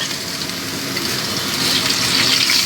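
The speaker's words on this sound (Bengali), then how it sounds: "টমেটোটা দিয়েও ভেজে নেব" Chopped tomatoes hit a pan of fried arum and potato for a fish curry, producing a loud, continuous crackling sizzle that swells toward the end, close up and with no talk.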